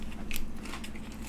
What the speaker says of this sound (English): I can hear it crunching.